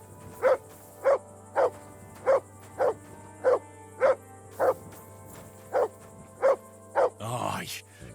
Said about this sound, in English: Clever dog.